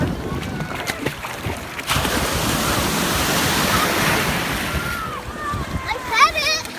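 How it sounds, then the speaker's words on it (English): Ocean waves surge and splash around children playing in the sea on a summer day, a loud, continuous roar of surf with voices of children and adults rising near the end. "They're fighting the waves."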